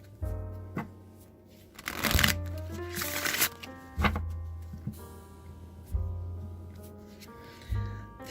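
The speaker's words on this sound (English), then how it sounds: "I'm just going to give this a few shuffles now and pull a few cards from this deck" Deck of oracle cards being shuffled by hand, several quick riffling bursts with soft taps of the cards between them, close and clear.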